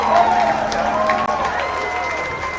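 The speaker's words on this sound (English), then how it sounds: "A warm applause from the crowd here at Hive Stadium" Warm crowd applause rolls around Hive Stadium at an under-20 rugby match between Scotland and Hong Kong China, a broad, steady spread of clapping and cheering with a commentator talking over it.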